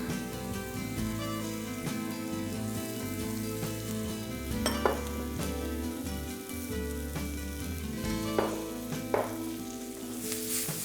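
Vegetables and garlic sauté in a pan with a continuous close sizzle, broken by the clink of a utensil stirring and tossing them.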